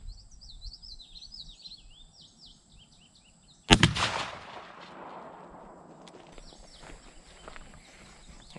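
A single loud shotgun blast from a Browning A5 firing Browning Wicked Wing shells at an outdoor patterning range, with a sharp crack and trailing echo; birds chirp in the background before and after.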